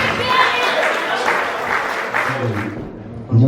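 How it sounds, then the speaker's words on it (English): An audience at an Independence community event gives a round of applause, a dense burst of clapping that fades toward the end before a voice comes in. "A big round of applause"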